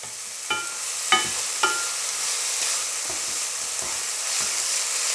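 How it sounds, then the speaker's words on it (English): Garlic and ginger frying in oil for a simple chicken curry, a steady close sizzle punctuated by several quick spoon-scrape stir strokes early on, then softer occasional stirring, no voices. "So the garlic and then the ginger. Mix those around, get them all in the oil."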